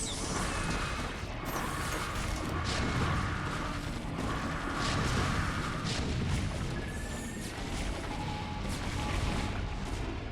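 Siege tanks firing during a StarCraft battle against Hydras, dense continuous battle din with booming impacts and mechanical clatter, loud and unbroken throughout.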